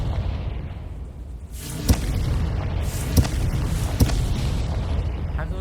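A Confringo spell explosion in Hogwarts Legacy bursts into a deep, rumbling boom, followed by several sharp impact cracks spaced about a second apart over a steady low roar of fire and game noise.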